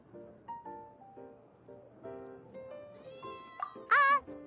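A cat in the video game Genshin Impact meows repeatedly in a series of short, tonal calls. The calls build to a louder, strained meow near the end.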